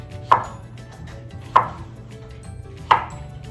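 Three separate knife chops through squash on a cutting board, evenly spaced about every second and a half, crisp and close with no talking.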